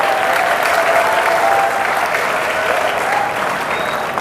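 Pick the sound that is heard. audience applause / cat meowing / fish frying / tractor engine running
audience applause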